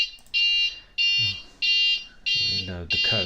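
An Arduino Uno alarm clock's buzzer beeps in five evenly spaced, loud electronic tones, each about a third of a second long, while someone speaks over the later beeps.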